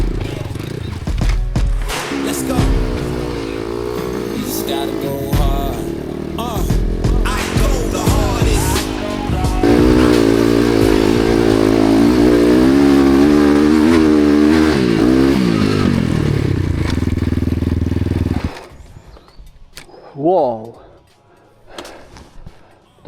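Enduro motorcycle from an XT97/XR99 off-road ride, engine droning loud and steady under open throttle with rising and falling revs and clatter over rough terrain, cutting out near the end where a voice speaks over quieter riding.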